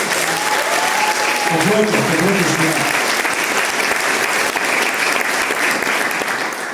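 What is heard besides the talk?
audience applause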